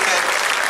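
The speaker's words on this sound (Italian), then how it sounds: "Facciamo un grande applauso alla Madonna dei Martiri" A brief burst of loud, dense applause from a crowd at a religious procession and Mass in Molfetta, steady throughout.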